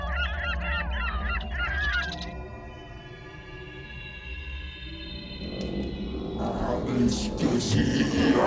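Gull calls rendered as bird cries within a reality-show scene, several harsh honking squawks at the start, then quieter noise followed by rising clatter and voices later.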